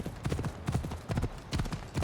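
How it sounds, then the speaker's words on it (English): Horse hooves clip-clopping in a video game set in Atlantis, a rapid, uneven run of close, fairly loud hoof strikes repeating in bursts over about two seconds, with no talking. "I need to take this horse either to Adonis or to the stable boy"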